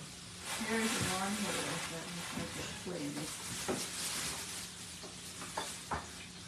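A spoon stirs a pot of supper cooking on a home stove, with a steady scraping and a sizzling hiss running underneath while voices talk over it.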